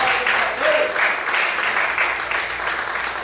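A church congregation applauds steadily, a dense wash of many hands clapping that stays even throughout, with faint voices mixed in.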